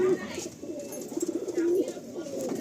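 Racing pigeons cooing at close range, a few soft rolling coos rising and settling over a low room hum, with faint background noise between calls.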